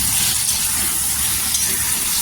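Eggplant pieces sizzle steadily as they sauté in hot oil for smoky Maharashtrian bharit, a dense, close, continuous crackle with no pauses and no talking.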